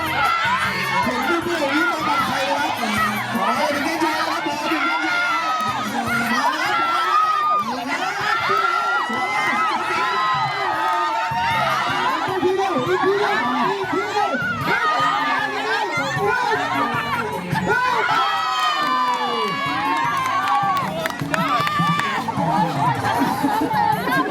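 A crowd cheers and shouts steadily throughout at a Songkran festival gathering, with whoops, excited chatter and children's voices blending into continuous loud noise.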